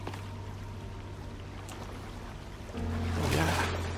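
A video game character jumps into a pond on an island, making a sudden loud water splash partway through, after a steady ambient background of lapping water.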